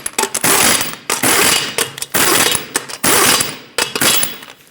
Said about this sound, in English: torque them to 83 foot-pounds